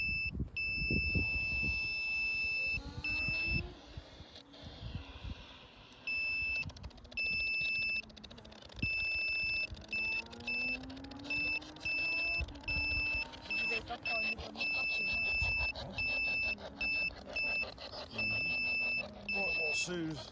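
An REM pod ghost-hunting device sounds repeated electronic beeping alarms in intermittent bursts, fairly faint, under voices talking and moving about during a night investigation.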